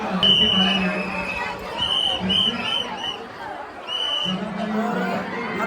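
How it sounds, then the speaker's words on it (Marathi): A large crowd throngs a temple festival for the fifth day of Kelamba Devi's Navratri, with dense chatter and murmur throughout, someone talking nearby and repeated tonal beeping over the din. "फुल गर्दी आहे फुल क्राऊड आहे"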